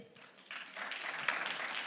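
Applause at an awards ceremony for library prize nominees swells from faint to fuller clapping within a couple of seconds, a crowd heard at some distance.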